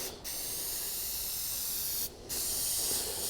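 Aerosol spray paint hissing steadily onto a Sparco steering wheel, two long continuous bursts separated by brief pauses, loud and close with no talking.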